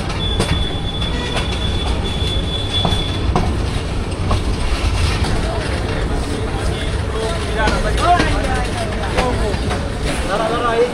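The Upokul Express rolls into Brahmanbaria station with a loud rumble of wheels and carriages, a sustained high wheel squeal early on, and rhythmic clatter, while voices murmur underneath.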